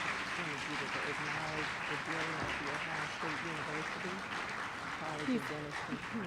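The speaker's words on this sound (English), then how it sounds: "Let's applaud them as they're going to their seats" Applause from the audience at an arts complex anniversary gala, a steady patter of clapping under a voice speaking over it throughout, with a few louder claps standing out.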